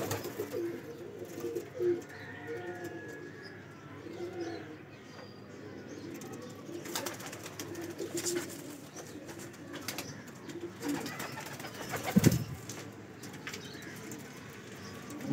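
Parwazi baby pigeons coo softly in a pen, with scattered chirps and brief wing flapping, all fairly faint and close, with no talking.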